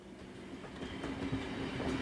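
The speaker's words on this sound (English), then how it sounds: "What sounds do trains make?" Train rumble with rhythmic rail clatter, fairly faint and steady over two seconds, with no speech over it.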